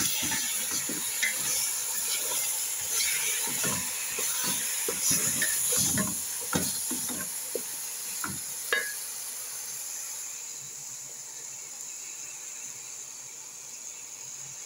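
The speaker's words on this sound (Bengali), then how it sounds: "এখন ঢাকনাটা খুলে আবার নেড়ে দিব গোস্তগুলো।" Meat sizzles and is stirred in a hot pan while cooking for a Bengali dish, with scraping and clattering strokes over a steady hiss in the first half before the stirring stops and only the sizzle remains.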